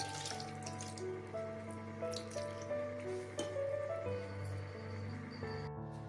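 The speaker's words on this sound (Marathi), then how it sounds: "ह्याच्यात थोडंसं पाणी टाकते, म्हणजे कैरीवरचं पण निघेल।" Water running and splashing steadily into a container over raw mango, faint and continuous, over a low background hum.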